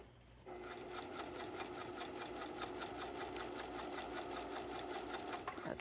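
A sewing machine runs slowly and steadily, stitching a seam on a dress along a scooped neckline, its rapid even needle clatter close and constant after a brief quiet start.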